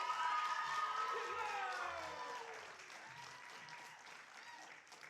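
Warm audience applause at a poetry slam, a dense wash of clapping that starts full and gradually fades over a few seconds, with some crowd voices underneath.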